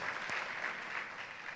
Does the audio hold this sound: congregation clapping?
yes